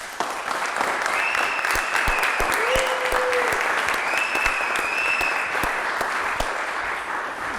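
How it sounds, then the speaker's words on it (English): A live audience applauds steadily for retired Heineken executive Peter Simons as he is introduced, dense sustained clapping throughout with a few whistles rising above it. "Ladies and gentlemen, please give me a round of applause."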